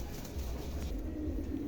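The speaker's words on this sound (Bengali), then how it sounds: "এখানে একজোড়া অ্যান্ডালুসিয়ান ফান্টেল আছে, আমেরিকান ফান্টেল" Andalusian fantail pigeons, a pair with white tails, coo softly and steadily in a loft, with low murmuring calls running throughout amid faint background noise.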